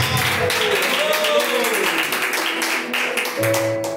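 A church congregation claps together during a worship service, a steady dense patter of many hands filling the room, with a voice sustaining a tone over the clapping.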